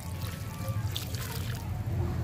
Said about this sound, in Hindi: पर अच्छी तरह मैं पानी दे दूंगा